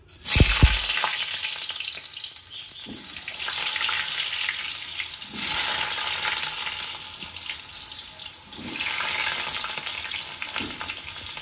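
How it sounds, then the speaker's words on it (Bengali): Potatoes frying in a little hot oil in a kadai for mutton curry, opening with a clatter as they go in, then a loud, steady close sizzle that swells and eases in waves with occasional stirring, no voices. "এখানে আমি মাটনের জন্য যে আলুগুলো নিয়েছি, আলুগুলো ভাজতে দেবো।"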